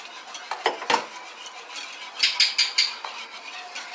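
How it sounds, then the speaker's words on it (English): Gravy is whisked in a hot pan, giving light metallic scraping and clinking strokes in irregular bursts with a faint sizzle underneath, close and fairly quiet. "whisk it together, dump it into your hot pan, and just keep whisking"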